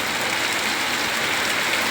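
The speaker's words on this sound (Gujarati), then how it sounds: "અમારે અહીંયા આજે અષાઢી બીજના દિવસે વરસાદ છે" Steady rain falls in an even, unbroken hiss on outdoor surfaces, filling the scene without any speech.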